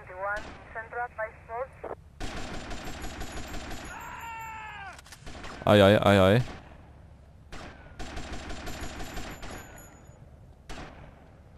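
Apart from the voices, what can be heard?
gunfire in the video game GTA: Vice City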